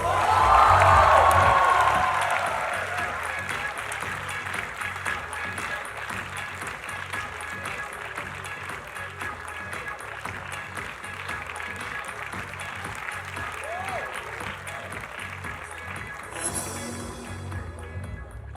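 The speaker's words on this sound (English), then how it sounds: "with a huge round of applause, please welcome on stage Mrs." Audience applause and cheering for Jaya Bachchan as she is welcomed on stage at the Umang Festival 2016 at NM College, loudest at the start and then settling into a steady crowd roar with scattered whoops.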